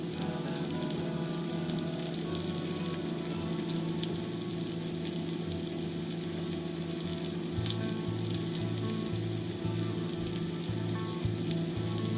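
Torn bacon pieces sizzling in a pan for Thanksgiving baked beans, a steady frying hiss over a low constant hum, heard alone at low volume.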